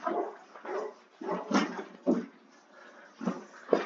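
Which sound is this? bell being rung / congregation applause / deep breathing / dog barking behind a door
dog barking behind a door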